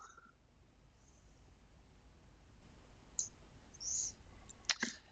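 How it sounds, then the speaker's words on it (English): A single faint mouse click lands near the end of a quiet stretch of low room noise as the Allow button is pressed on a WordPress setup screen. "We click Allow."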